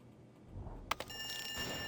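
An electronic alarm in the video game Quadrilateral Cowboy starts abruptly after a soft knock, a thin, steady high-pitched ringing tone with a few sustained pitches, fairly faint and continuing to the end.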